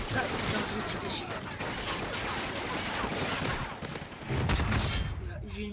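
Dense, continuous gunfire from the video game Call of Duty: Ghosts, a loud sustained barrage of rapid shots and bursts filling the whole stretch, with a heavier burst near the end before it cuts off.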